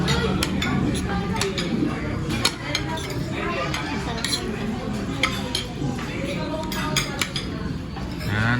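A utensil scrapes and clinks against a pot as sisig is stirred at a Mother's Day meal, with repeated metallic taps and scrapes heard up close while people talk over it.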